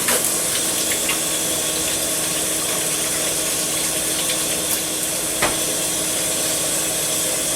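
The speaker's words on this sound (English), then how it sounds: "and then I just wash my hands again" A kitchen tap runs steadily as hands are rinsed under it, an even, close rush of water with occasional faint knocks and no talking.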